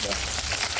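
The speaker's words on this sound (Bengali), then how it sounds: "মাছ ভাজা হচ্ছে" A brief, steady sizzle of fish frying in hot oil, loud and close.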